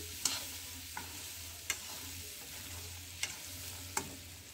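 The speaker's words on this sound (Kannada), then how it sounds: "ಈಗ ಎಲ್ಲ ಕಡ್ಲಿ ಕಾಳನ್ನ ಹಾಕಾಕತ್ತೀನಿ ನೋಡ್ರಿ. ಈಗ ಚಂದಾಗೆಲ್ಲ ಮಿಕ್ಸ್ ಮಾಡ್ಕೋಬೇಕು ನೋಡ್ರಿ." Spoon scraping and stirring chickpeas (kadale kalu) in a frying pan for usli, five or six quiet clinks over a faint continuous sizzle, with no talking.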